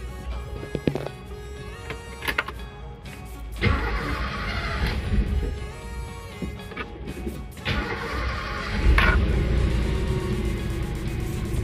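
A 1993 Toyota Kijang Super G short-wheelbase engine cranks and starts with a few clicks and whirs, then settles into a steady close idle that briefly swells in revs, with no talking.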